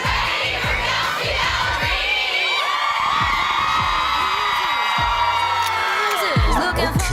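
Concert crowd in Georgia waiting for a singer, a loud continuous wall of cheering, whoops and high shouts from many people, with a few excited individual voices rising above the din.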